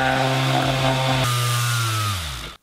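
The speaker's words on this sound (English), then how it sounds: "I'm gonna use a sander to make them look a bit smoother" An electric sander runs steadily on rough cut wood pieces, a loud continuous motor whine with a slight shift in pitch midway, before spinning down and stopping.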